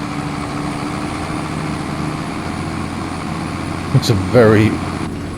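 A tractor engine from Farming Simulator 25 hums steadily at a low idle throughout, with a person speaking briefly over it near the end.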